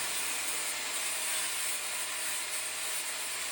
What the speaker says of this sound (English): I use my DeWalt grinder here.